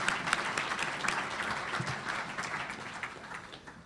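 Audience applause at a county State of the County presentation, a steady broadband clapping from a sizable crowd that holds for several seconds before gradually thinning.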